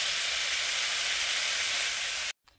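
Water poured into a hot pan of spiced vegetable curry fried with cumin powder gives a loud, steady, close sizzling hiss that cuts off abruptly near the end.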